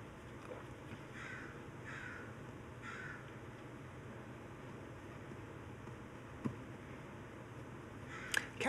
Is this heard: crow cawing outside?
yes